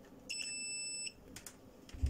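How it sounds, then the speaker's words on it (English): A multimeter in continuity beeper mode gives one steady high-pitched electronic beep lasting under a second, close and clear, followed by faint handling clicks. "when you switch this to the beeper mode"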